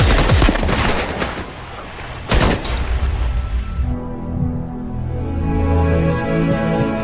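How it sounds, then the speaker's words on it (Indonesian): An AK-47 rifle test-fired behind a warehouse in a film scene, loud rapid automatic bursts cracking for several seconds before giving way to sustained low music. "Sampai akhirnya senjata pun sudah jadi, dan pengujian pun dilakukan di belakang gudang."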